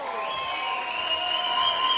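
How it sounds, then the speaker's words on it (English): Arena crowd at a professional boxing night cheering and applauding as boxer Yusuf Atmis is introduced, a steady wash of clapping and voices with a ringing announcer-style tone running underneath. "You can hear all the cheers and the shouts and the clapping there for Joseph Atmis"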